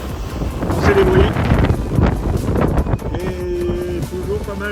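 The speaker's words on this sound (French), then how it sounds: "Et toujours pas mal de vent" Strong wind buffeting a sailboat at sea, a loud, steady rushing roar of gusts across the microphone, with a voice speaking briefly near the end.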